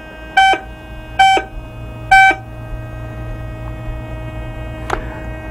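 Three short high-pitched electronic tones from a Whites MXT metal detector, each about a quarter second and evenly spaced, sounding over a steady electrical hum, with a faint click near the end.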